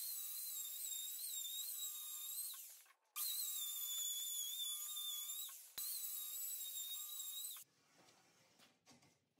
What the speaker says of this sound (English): I've mortised out that center, and it makes really nice square edges